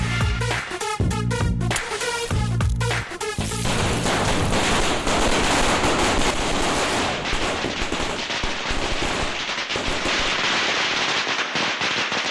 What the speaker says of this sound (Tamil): யார் அது இந்த நேரத்தில் நம்ம வீட்டு வாசலில் பட்டாசு வச்சுருந்தது?